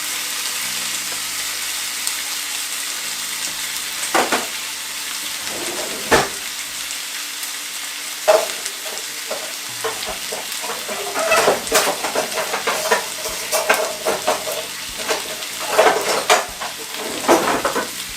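Salmon pan-frying with a steady, loud hiss of sizzling oil throughout, broken by crackles and clinks as the fish is turned and moved in the pan.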